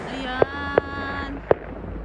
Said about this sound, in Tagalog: nagpa-fireworks din na sa kabila.